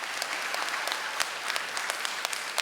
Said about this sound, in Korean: 박수 한번 쳐봐.